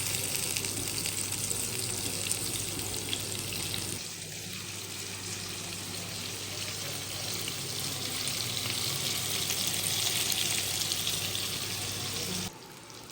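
Chicken seekh kebabs fry in a pan, turned to cook on the second side, giving off a steady, loud, close sizzle and crackle that carries on without a break.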